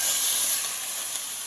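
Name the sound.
steak searing in a cast iron pan, sizzling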